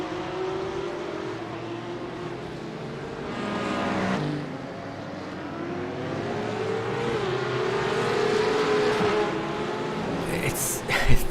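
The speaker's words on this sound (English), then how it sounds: "Has got to try and get in the slipstream of these Porsche Cup cars." Porsche Cup race cars from a 24-hour esports endurance race at the Circuit of the Americas, engines droning and revving steadily as cars run close together, under continuous commentary.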